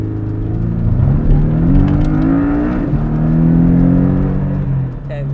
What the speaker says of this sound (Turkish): Evet, efsane bir sesle ok gibi ileri fırladık.